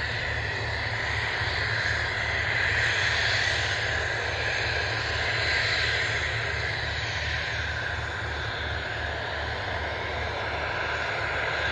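Aircraft departing at the RAF Waddington airshow: a steady, droning engine roar with a strong low hum, moderately distant and continuous, with no talk.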